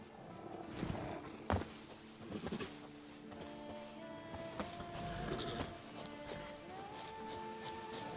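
Geralt's horse Roach in The Witcher 3 makes scattered hoof clops early on, soft and uneven rather than a steady gallop, then fades into a droning game ambience with tonal hums.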